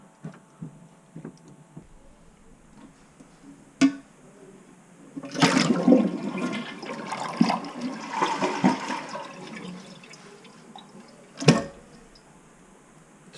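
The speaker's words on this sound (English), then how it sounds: "So we have a flushing toilet," A toilet flushes in a house once its frozen drain pipes are thawed and the plumbing is reconnected during a snowstorm. A loud rushing, gurgling swirl lasts several seconds, framed by quieter clunks of handling before and after.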